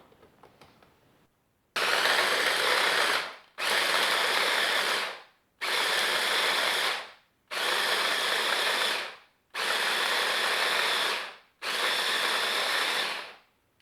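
An electric food processor grinding almonds for gluten-free medieval Christmas pastries, six loud whirring bursts of about two seconds each, separated by short pauses as the machine is pulsed on and off, close and alone.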